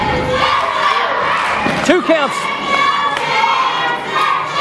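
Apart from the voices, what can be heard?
wrestling crowd cheering for Chance Prophet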